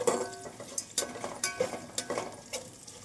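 Bay leaf, caraway, cardamom, cloves, cinnamon, onion and green chili frying in a pan for bagara rice, with close scraping stirs and clinks over a steady sizzle.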